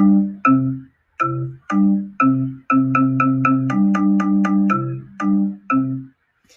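Short melody of bell-like synth notes from Chrome Music Lab, a browser music toy: about twenty clean plucked tones in a bouncy rhythm with brief gaps, played alone and clearly up front.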